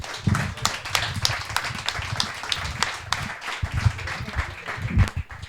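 Audience applause at a book presentation of a novel, a dense crowd of clapping hands spread over several seconds with steady irregular patter and a low murmur of voices underneath.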